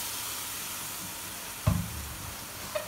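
Beef frying in a pot with garlic, a steady close hiss with one dull knock of the meat or a spoon against the pot partway through, and no talk.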